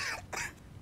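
Two harsh, strong coughs from a male player during a Left 4 Dead 2 session, close to the microphone and in quick succession, followed by a brief quiet tail.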